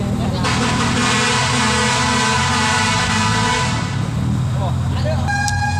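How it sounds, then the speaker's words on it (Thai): A loud, sustained vehicle horn blares for several seconds amid crowd noise and voices at a forest temple, then cuts off, with a brief higher tone near the end. "แตรดัง เสียงดังอย่างแรงเลยค่ะ"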